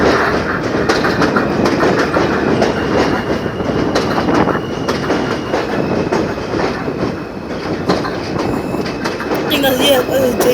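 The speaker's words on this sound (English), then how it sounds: "J train approaching Cypress Hills." An R160 J subway train approaching Cypress Hills station fills the scene with steady, loud rumbling and rhythmic clickety-clack of wheels over rail joints, with some metallic screeching near the end and faint voices in the background.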